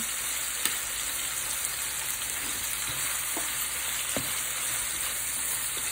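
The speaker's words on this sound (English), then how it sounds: "I'm going to give it a little stir because it's cooking" Ground beef frying in a pan, a constant bright sizzle with a few light stirring taps and scrapes scattered through, close and steady, with no talking.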